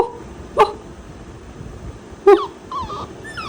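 A husky barks twice, short sharp yelps about two seconds apart, close and fairly loud over a quiet room, with a softer whine trailing after the second.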